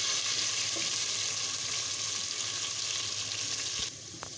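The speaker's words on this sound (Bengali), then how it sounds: "দেখতে পাচ্ছ আমার চিকেনটা ফ্রাই করা হয়ে গেছে। আমি এখন উঠিয়ে নিচ্ছি।" Chicken fries in hot oil with a loud, dense crackling sizzle that runs steadily, then drops suddenly near the end as the pieces are lifted out of the oil.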